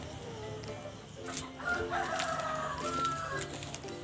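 Chickens cluck and a rooster crows amid a busy farmyard backdrop, the calls fairly close and overlapping for a few seconds.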